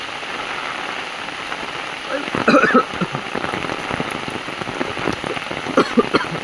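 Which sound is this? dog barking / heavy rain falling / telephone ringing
heavy rain falling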